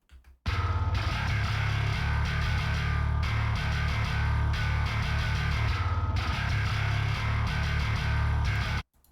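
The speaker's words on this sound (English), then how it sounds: "The bass in solo sounds like this." Soloed bass guitar played through a DI with heavy processing and distortion, a dense, gritty low-end riff sustained continuously for several seconds, loud and alone.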